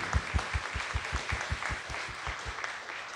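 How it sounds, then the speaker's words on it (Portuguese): A church congregation claps together during a Catholic novena service honoring the Blessed Sacrament, the applause steady and rhythmic at a brisk beat, loud and sustained across the hall with no talk over it. "Uma salva de palmas a Jesus no Santíssimo Sacramento."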